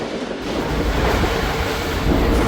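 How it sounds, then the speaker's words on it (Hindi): Tezgam passenger train running at high speed, heard as a loud continuous roar of wheels and rushing wind buffeting close by, steady with a slight swell near the end. "रेलवे स्टेशन पास हुई है ट्रेन बहुत ही ज़बरदस्त रफ्तार के साथ"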